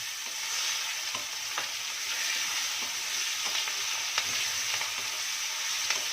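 Chopped onion frying in a pan with a little oil, asafoetida and turmeric, giving a continuous soft sizzle with faint occasional stirring taps and no talking.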